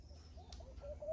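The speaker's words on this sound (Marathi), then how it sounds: "पक्ष्यांचा किलबिलाट चाललाय." Faint bird calls in morning air outside a home, a few soft cooing and chirping notes scattered over a quiet background hum, distant and low in level.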